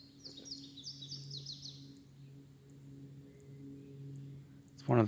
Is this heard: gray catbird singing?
yes